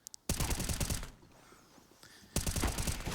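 Rapid gunfire in a professional CS:GO esports match at IEM Katowice 2022, two loud bursts of close shots separated by a quieter gap with faint game sounds, and no talk over it.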